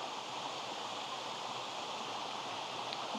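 A waterfall pours over fractured slate rock in steady rain, giving a continuous, even broadband rush that holds at a moderate level throughout with no talking.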